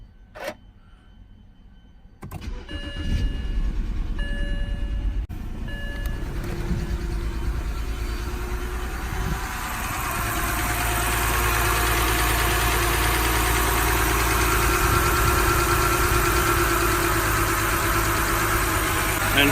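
A 2007 BMW 328i E90 engine with an ignition coil misfire runs at a steady, loud idle after a quiet start, its low rumble continuous and alone with no voices.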